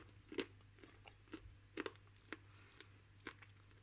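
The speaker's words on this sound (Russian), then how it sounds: "Небольшие кусочки жуются вообще без проблем." Small pieces of yellow edible clay from Kyrgyzstan chewed close to the mic, with sharp irregular crunches spaced through a quiet background hum.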